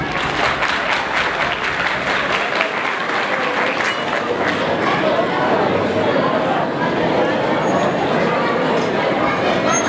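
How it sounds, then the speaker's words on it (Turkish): An audience applauds at a 2017 solidarity night event in Damal, Ardahan: loud, sustained clapping from a large crowd fills the room, with voices mixed in throughout. "Lütfen bir alkış alabilir miyiz?"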